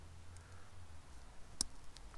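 A single short, sharp click as a blind-spot sensor wiring connector snaps into place in a 2022 Seat Arona, faint against a quiet, low hum.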